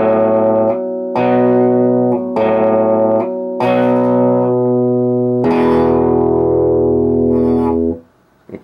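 A slow electric guitar riff rings out, held notes and strummed chords in sequence, clean and sustained, ending with a final long chord that fades.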